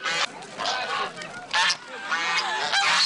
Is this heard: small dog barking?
no